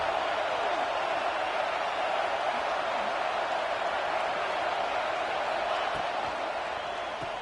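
A college football stadium crowd roaring during a red zone defensive stand, a dense, steady wash of distant cheering that holds at an even level throughout.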